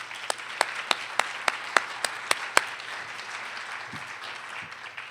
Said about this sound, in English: So one more round of applause, please